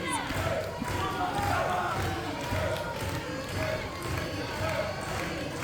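A wrestling crowd in Houma, Louisiana chants for the wrestler T-Gainz, a loud, continuous rhythmic roar with pounding beats throughout, and a commentator's voice is faintly mixed in.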